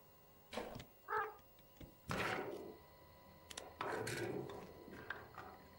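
A cat in the video game Stray gives a short meow among a few soft thunks and bumps, sparse and fairly quiet sounds separated by near silence, with no talk.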